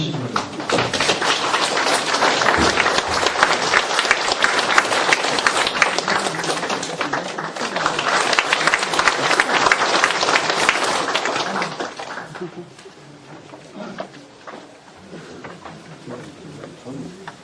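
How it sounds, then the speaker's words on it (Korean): Applause from an audience at a humanities philosophy forum greeting a lecturer, a dense clatter of many hands for about twelve seconds before thinning into scattered, quieter claps. "여러분들 큰 박수로 환영해 주시기 바랍니다"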